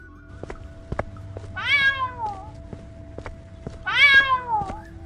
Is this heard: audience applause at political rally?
no